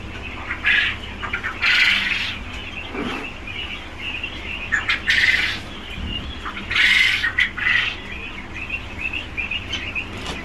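Quails being fed squawk and chirp loudly in repeated bursts, a busy flock of birds calling close by with no talk.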